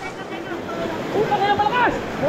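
A strong river current rushes in a steady broadband roar at a trail crossing in Bulacan, with people shouting and calling out over the water.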